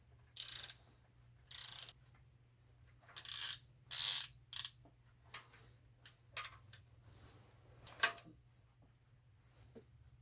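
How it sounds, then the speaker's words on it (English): A ratcheting torque wrench tightens bolts to 41 foot-pounds on a VW B5 Passat 2.8L V6 during timing belt work, with several short, crisp clicking bursts separated by pauses and a faint steady hum underneath. "I'm going to be torquing down these bolts to 41 foot-pounds of torque"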